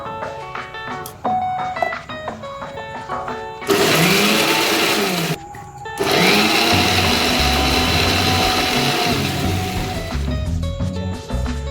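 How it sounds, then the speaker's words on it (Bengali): A kitchen blender grinds onion into a paste, its loud whirring motor running in two long bursts with a brief stop between, after shorter clattering and tapping at the start. "এরপর আমি পেঁয়াজটা একটু পেস্ট করে নেবো"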